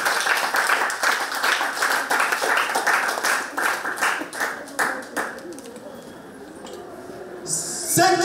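A church congregation breaks into loud, sustained clapping and cheering that fades after about five seconds, followed by quieter murmurs and a voice at the end.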